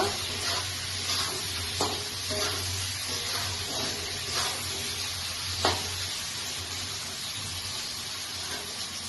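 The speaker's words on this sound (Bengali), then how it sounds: "এবার আমি আলু আর টমেটো গুলো হালকাভাবে ভেজে নেব।" Potatoes and tomatoes frying lightly in a pan give off a steady, moderate sizzle with occasional crackles and pops, alone without talk.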